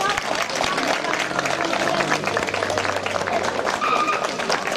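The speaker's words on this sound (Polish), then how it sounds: "Wielkie brawa jeszcze raz Państwa" An audience at a festival in Swarzewo claps steadily, a dense continuous wash of applause mixed with crowd noise and voices.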